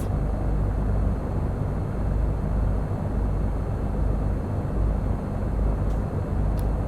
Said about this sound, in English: So I'm just going to have to wait here while this other plane takes off.